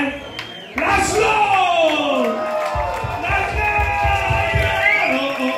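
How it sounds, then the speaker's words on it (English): A tribute concert crowd cheers and shouts for the sound engineer, a loud, sustained roar of whoops and yells that surges in about a second in and carries on to the end, with a voice over the noise. "big round of applause for the sound guy, Laszlo!"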